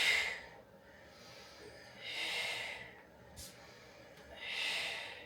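Audible breathing during Pilates leg circles, three long airy breaths, inhales and exhales swelling and fading in a slow, even rhythm, close and fairly soft.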